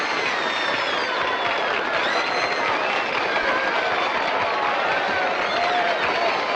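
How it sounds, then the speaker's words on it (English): A large crowd at a movie premiere roars continuously, a thick wall of cheering and applause mixed with high shouts, loud and unbroken from start to finish. "The crowd is roaring so much"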